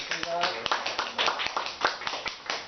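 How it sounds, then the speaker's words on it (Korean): A small audience claps at a lecture and discussion session, with a loose, uneven run of distinct hand claps heard close by, mixed with murmured voices and brief talk at the start. "박수 한번 쳐줘야 되겠네"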